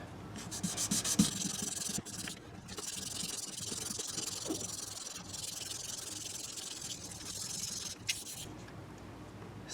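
Very fine grit abrasive, around 4000 grit, rubbed over the frets of a 1997 Gibson Les Paul, a soft, steady, close scratchy hiss in back-and-forth strokes with short breaks.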